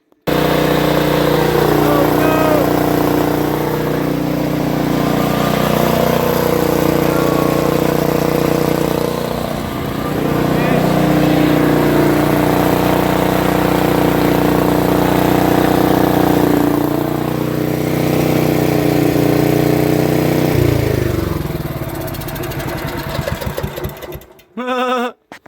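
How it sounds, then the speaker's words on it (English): A small engine runs on wood gas from a two-stage gasifier, a loud steady droning hum with a slight dip in speed partway through before it cuts off near the end, close to the listener. "start the engine up"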